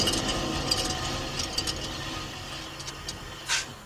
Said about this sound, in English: You're going to hear like metal noise rattling around or something.